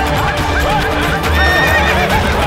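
A horse neighs loudly and close in a period drama about Maharana Pratap, its shrill whinny rising over steady background noise with faint hoof clatter.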